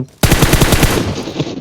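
A sudden loud burst of rapid automatic gunfire in the video game PUBG Mobile, a fast rattling stream of shots that starts abruptly and fades at the end.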